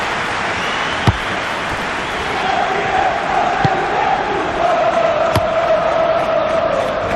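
Stadium crowd in the football video game PES 2021, a steady distant murmur of fans swelling slightly midway, with a few sharp thuds of the ball and a commentator speaking over it.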